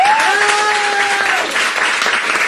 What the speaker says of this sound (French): On peut applaudir pour Aurélie?